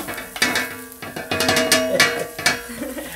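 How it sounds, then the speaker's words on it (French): Onions fry in a saucepan for a homemade rabbit dish, with repeated scraping and clinking of a utensil stirring them, a soft sizzle underneath, close and moderately loud. "Donc on fait frire un peu les oignons"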